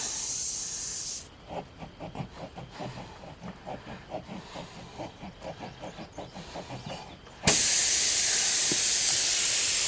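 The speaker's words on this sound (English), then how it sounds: "You can hear it working now to release the air." Air hisses out of a punctured tubeless tire on a mower, a pulsing, uneven hiss with rapid fluttering bursts, then a sudden loud, steady rush of escaping air near the end.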